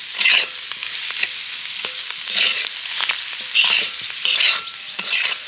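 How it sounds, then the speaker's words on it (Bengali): A spatula scrapes and stirs a sizzling filling with chopped coriander leaves in a pan, a steady loud frying hiss broken by repeated rhythmic strokes, with no talking. "এবার শুধু ভালো করে নেড়ে ছেড়ে পুরটাকে তৈরি করে নিতে হবে"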